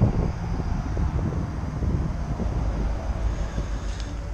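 Strong wind buffeting outdoors near a gas camp stove set up at a truck, a continuous rough roar with gusty pulses and microphone rumble throughout.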